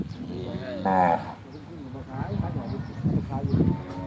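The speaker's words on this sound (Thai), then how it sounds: "ควายแม่ลูกโคแม่ลูก" Cattle and buffalo with their calves moo on a farm, one loud drawn-out low around the middle and deeper calls following, with people talking nearby.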